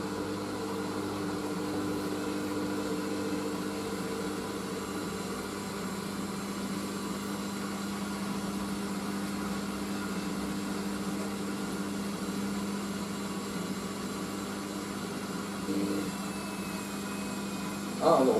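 Hoover SIX AAA160 Whisper washing machine on its fourth intermediate spin with heavy throws, a steady low motor hum and drum whir, fairly quiet and even, with a short clunk near the end.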